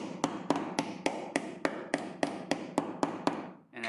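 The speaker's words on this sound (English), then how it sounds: "And then we'll just have to keep hammering that in" A steady series of sharp hammer blows on metal while repairing a Nissan G35 car, about a dozen evenly spaced strikes, close by, with a brief scrape at the end.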